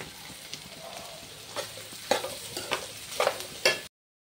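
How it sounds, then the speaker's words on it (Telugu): Bitter gourd pieces tumble into hot oil in a pan and are stirred, giving a steady sizzle broken by several loud scraping spatula strokes, close by and with no voices. "ఆరగాకరకాయ ముక్కలు వేస్తున్నాను."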